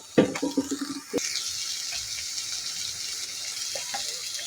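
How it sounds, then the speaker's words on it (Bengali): Cooking oil poured into a pan for a Bangladeshi dried-fish and taro-stem curry, heard as a close liquid pour with a few splashy bursts at the start, followed by a steady hiss. "এখন তেল দিয়ে আমি বসাই দিব"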